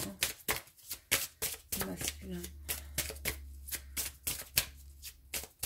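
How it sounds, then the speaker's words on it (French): Tarot cards being shuffled by hand: rapid, rhythmic riffling and slapping bursts repeated many times, close and crisp, while someone speaks over them. "on va remettre les cartes. Les masculins."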